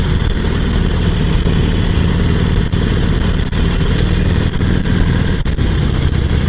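Harley-Davidson Iron 883 motorcycle engine running steadily while riding, a loud continuous low rumble mixed with wind noise, unbroken throughout with no talk.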